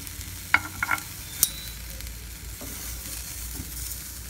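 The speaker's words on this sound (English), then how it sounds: "so that sweet potato cooked all over." Sweet potato sizzles steadily in a covered pan, a soft continuous frying hiss broken by a few sharp clicks and taps of a lid or utensil early on, with no talking.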